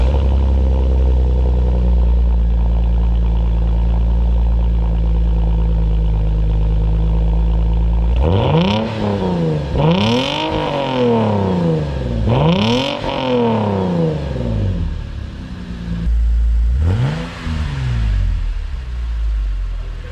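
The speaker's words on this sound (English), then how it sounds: "a quick fire up here of the exhaust now with the resonator deleted" A Lexus IS250 exhaust with an Invidia Q300 and rear resonator deleted idles with a deep, steady drone, then rises into four sharp revs that swoop up and fall back, loud and close.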